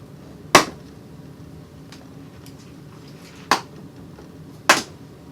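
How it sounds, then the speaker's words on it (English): Plastic speaker grills on a Harley-Davidson Road Glide fairing being popped out, three sharp, near clicks spaced a few seconds apart over a quiet background. "remove your speaker grills, which you can easily just pop out from inside the fairing here"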